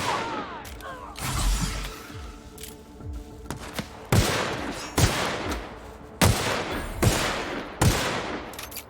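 Bursts of gunfire from the video game The Outer Worlds, with a few loud distinct shots in sequence, punchy and close, after some scattered background combat noise; a voice speaks briefly.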